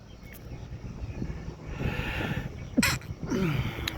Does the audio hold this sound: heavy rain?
no